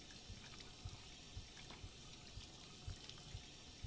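Steady tap water running in the video game Life is Strange 2, a constant faint hiss with soft irregular splashes and drips, alone without voices.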